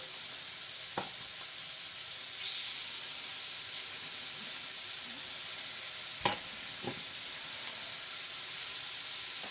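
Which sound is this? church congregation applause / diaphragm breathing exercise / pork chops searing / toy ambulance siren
pork chops searing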